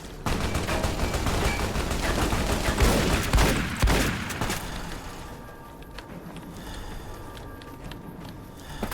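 Rapid video-game gunfire from Fallout: New Vegas crackles in dense overlapping bursts for about five seconds, loud and close, then thins to scattered shots and a lower background rumble.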